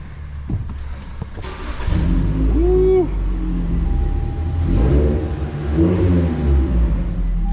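A car engine revs in short bursts from inside the closed cabin, rising and falling twice as a loud rumbling roar with intake noise.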